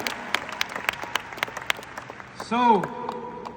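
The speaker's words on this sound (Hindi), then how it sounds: "दोबारा ताली मार दो यार" At a success-day event in Delhi, an audience gives scattered, sharp claps spaced irregularly, followed by a short burst of voice near the end.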